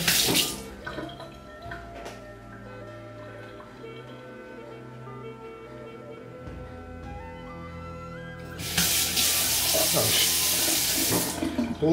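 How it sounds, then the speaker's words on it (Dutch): Tap water runs into a kitchen sink while Dutch spring rolls with sriracha sauce are prepared, a steady close rush with a louder, brighter burst of flow near the end and a little faint background noise. "Een beetje water."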